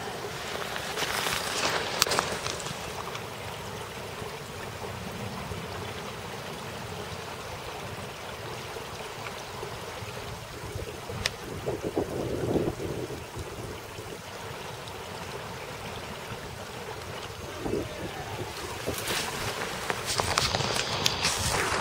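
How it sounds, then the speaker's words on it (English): Steady broadband rush of running water, like a stream flowing, continuous throughout with brief louder splashy bursts near the start and end. "Water noises!"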